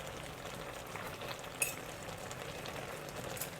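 Prawns, about 350 grams, cooking over medium heat in a Chinese seafood pot with pickled vegetables, giving a steady soft sizzle and bubbling that runs throughout at a moderate level, with one brief sharper clink near the middle.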